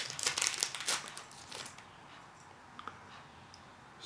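Paper crinkling and rustling while a mail package is opened, with a burst of crisp crackles at first, then fainter scattered rustles and small ticks, close up.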